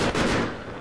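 A single heavy sniper rifle shot booms in Battlefield 3 on the Tehran Highway map, a loud close blast with a rolling tail that fades out, no talk.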